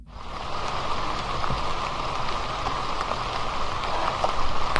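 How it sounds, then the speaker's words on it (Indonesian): Heavy rain pours steadily through a forest, a dense, loud, unbroken hiss of drops close by with no voices. "Hujan pun turun sangat lebat"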